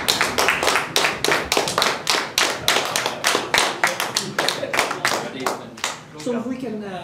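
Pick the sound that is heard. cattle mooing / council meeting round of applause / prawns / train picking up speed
council meeting round of applause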